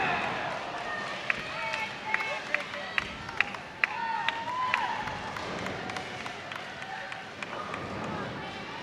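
Weber fans at a college team tournament raise a crowd roar, with scattered claps, cheers and background chatter building in a large hall, punctuated by sharp squeaks and impacts while a commentator talks over it.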